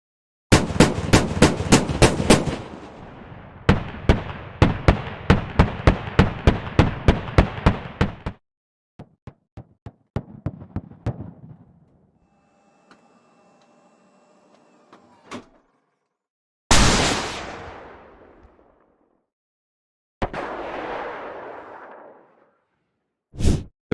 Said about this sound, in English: Let's take a listen to the 25mm Bushmaster.